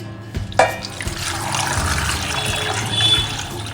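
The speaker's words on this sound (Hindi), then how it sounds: "अब इसमें हम पानी डाल देते हैं।" Water runs into a pot of chicken marinated with vinegar for biryani, a steady splashing pour that starts with a clatter and continues evenly, close by.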